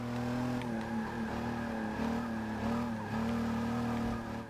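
A Pontiac Aztek driven around a track in Forza 6 gives a steady, loud engine drone whose pitch dips and climbs with shifts and cornering, with faint tire squeal.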